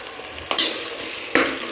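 Ginger garlic paste sizzles and fries in hot oil for chicken biryani, with a couple of sharp spoon scrapes and stirring strokes over the steady crackle, close and loud, with no talking.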